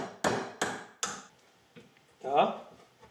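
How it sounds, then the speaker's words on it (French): Three quick, loud hammer strikes land on a seized rear brake caliper, close and ringing. A fainter tap follows, then a short voiced exclamation. "Coup de marteau après coup de marteau."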